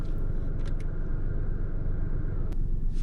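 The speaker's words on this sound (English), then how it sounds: "We should hear the engine start up" A manual car's engine idles steadily close by, a low continuous rumble holding an even note throughout, with a couple of brief higher clicks over the top.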